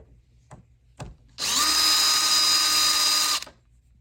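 A power drill unscrews screws from a touch-screen door lock, spinning in one loud, steady burst of about two seconds up close, preceded by two small clicks and handling noises.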